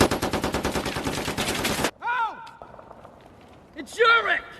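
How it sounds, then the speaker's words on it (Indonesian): Intense gunfire exchange from the Black Hawk Down war film, with rapid rhythmic automatic bursts filling the first two seconds before cutting off, followed by shouting voices. "Kelompok Aidit dan tim Sersan Jeff masih sangat sengit melakukan adu baku tembak."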